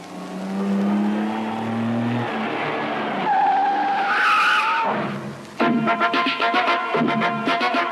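A car pulls away with a rising engine note and a long tire squeal and skid, followed by a rough, pulsing engine roar as it speeds off, loud and close with no voices.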